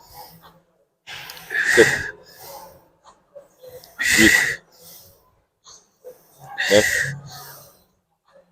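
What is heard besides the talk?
breathing heavily during a coached exercise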